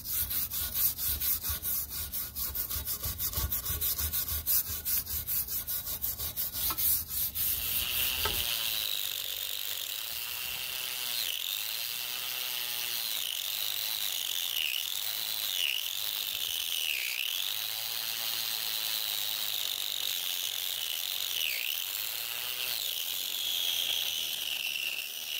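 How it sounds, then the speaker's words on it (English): An angle grinder with a wire brush attachment cleans a cast iron fireback. It begins with harsh, broadband scrubbing, then turns into a loud, continuous high whine that dips and swells as pressure on the metal changes. No voices. "We may end up using the wire brush attachment for the angle grinder."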